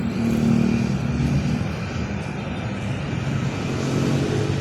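An airplane passes overhead near an airport, a continuous broad engine rumble that stays loud and steady for several seconds with no voices.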